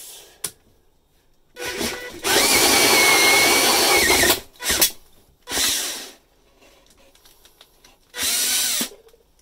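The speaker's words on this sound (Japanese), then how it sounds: "ドリルモードにします。" Cordless power drill in drill mode boring a downlight opening through a ceiling board, Panasonic downlight fitting; several loud whirring bursts of varying length separated by short pauses, close up with no talk.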